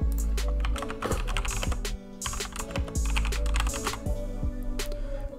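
Typing on a computer keyboard to enter a Fortnite lobby bot emote command, rapid close clacking keystrokes with irregular rhythm and a brief pause midway.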